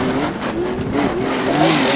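Race car on the downhill course at the Goodwood Festival of Speed, engine note droning steadily and shifting in pitch as it passes, loud and fairly near, with no talk over it.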